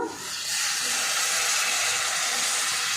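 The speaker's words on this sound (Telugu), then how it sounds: "నేను చింతపండు రసం అయితే పోస్తున్నాను ఇప్పుడు" Tamarind juice is poured into a simmering bitter gourd curry, and a loud, steady hiss of liquid hitting the hot pot rises quickly and holds evenly.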